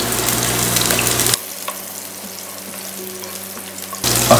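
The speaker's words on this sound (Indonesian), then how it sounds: "Kita tunggu sampai dia agak setengah matang ya, sedang sampai wanginya mulai keluar si bawang ini ya." Garlic fries in a generous amount of cooking oil for sambal bawang, sizzling loudly and close, briefly dropping to a quieter crackle before the full sizzle returns.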